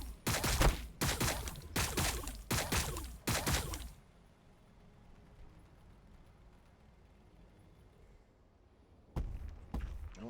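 Heavy gunfire in Warhammer 40,000: Battlesector, Blood Angels against Tyranids, comes as five loud, booming shots in quick rhythm, then a long low rumble before another blast at the end.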